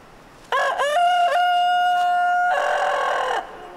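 A rooster crows loudly and close by, one long drawn-out cock-a-doodle-doo that rises, holds, and breaks off at the end.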